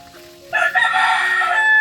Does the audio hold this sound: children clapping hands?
no